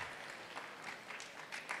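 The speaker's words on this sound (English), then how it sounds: "Round of applause for him, please." Audience applause at an economic symposium in Sunyani, a steady crowd clapping that swells in places and stays moderately loud throughout.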